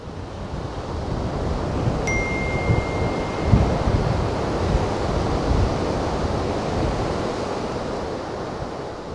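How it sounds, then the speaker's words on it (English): Strong wind blows across an open outdoor landscape, a steady, loud broadband roar with slight gusting swells, heard alone and close to the microphone throughout. "It's so windy today."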